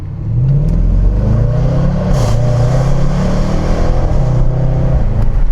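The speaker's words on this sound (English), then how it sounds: "So we'll just give it a quick bomb here in sport mode with a paddle shift, sort of first gear pull." A 2016 Range Rover Sport SVR with a 5.0 V8 pulls hard in first gear in sport mode, a loud, close exhaust roar rising in pitch through a steady run of revs, no talk.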